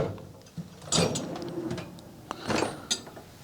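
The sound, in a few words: tool cabinet drawer opening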